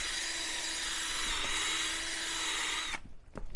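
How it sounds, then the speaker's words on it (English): A tool grinds steadily against a concrete garage floor to scuff it, a loud unbroken rasp for about three seconds before it stops abruptly, leaving a couple of faint knocks. "Scuffing up the floor."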